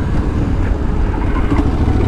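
Steady, loud drone of an Aprilia Tuareg 660 2023 twin-cylinder motorcycle engine running continuously and close by, with some wind rush and no voices.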